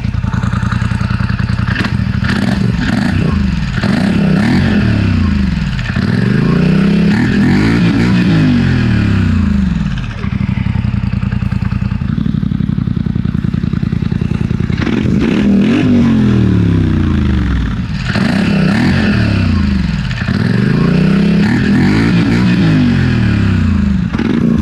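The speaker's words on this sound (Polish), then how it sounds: "Tak brzmi oryginalny wydech." A Polaris Sportsman XP 1000 ATV engine with its stock exhaust revs up and down in repeated cycles, exhaust rising and falling in pitch, loud and close with a steady idle between.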